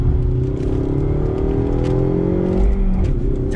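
A Ford Mustang EcoBoost with a 6-speed manual runs loud and close under steady engine load, the tone rising and easing with throttle blips as it heel-toe downshifts.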